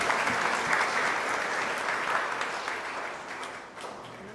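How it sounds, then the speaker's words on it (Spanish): Sustained applause from a church congregation, steady and fairly loud throughout, tapering slightly toward the end with no voices over it. "Un aplauso para los cursillistas, pues, que están de celebración hoy."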